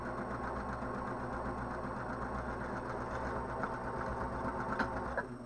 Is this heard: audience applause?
no